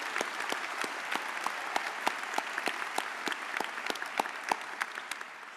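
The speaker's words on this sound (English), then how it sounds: "A round of applause." Applause from the audience at a medical college convocation ceremony, a steady wash of many hands clapping with sharp individual claps standing out, sustained at moderate level throughout.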